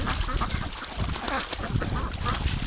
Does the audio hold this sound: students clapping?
no